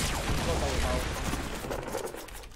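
Gunfire in a Fortnite duo match: a dense, continuous volley of shots with heavy noise, muffled and steady throughout the short stretch.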